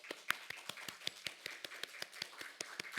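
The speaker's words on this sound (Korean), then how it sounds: "박수 한번." A church congregation at a Korean Sunday service in Hawaii gives a brief round of applause. The clapping is faint and rather distant, with steady, scattered claps.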